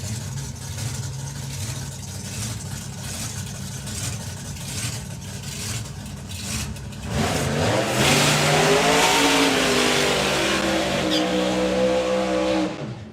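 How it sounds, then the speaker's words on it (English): Two supercharged small-block nostalgia drag cars at a drag strip do side-by-side burnouts, a steady loud engine roar that swells sharply midway into a harsher, higher-revving blast heard from a distance. "And side-by-side burnouts."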